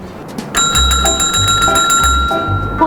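A small bell is rung rapidly and repeatedly to get students' attention, a loud, bright, ringing trill of quick strikes over a low background rumble.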